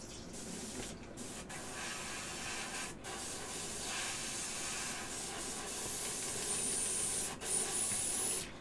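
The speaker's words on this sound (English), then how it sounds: "I'll clean the airbrush." An airbrush being cleaned sprays in a steady close hiss, with brief breaks and slight level shifts as bursts of air and cleaner are pushed through.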